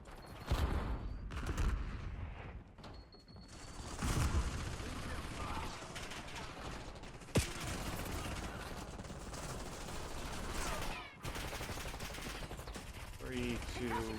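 Video game gunfire rattles in dense bursts under a busy mix of effects and game voices, with one sharp single shot standing out midway and machinery-like clatter near the end.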